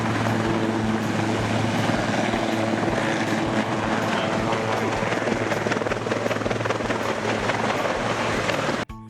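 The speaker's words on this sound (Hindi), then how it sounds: "जैसे ये हेलीकॉप्टर टेक ऑफ करते हुए बाएं ओर मुड़ता है, पास लगे पावर लाइंस की तारों के चिथड़े उड़ जाते हैं" A helicopter taking off and striking nearby power lines, with loud continuous rotor and engine roar throughout that cuts off abruptly at the very end.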